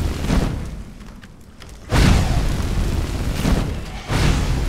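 A destruction fire spell in the Skyrim video game burns enemies, heard as loud roaring blasts of flame that surge at about two and four seconds over a rumbling low background, with no voices.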